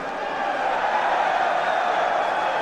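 A large esports arena crowd roars and cheers at a CS2 match during an IEM Sydney event, a dense, steady wall of voices sustained at close, loud level throughout.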